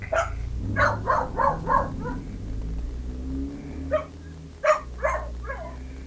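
A person mimics a dog, giving a run of short yappy barks, a pause, then another cluster of barks over a low background hum.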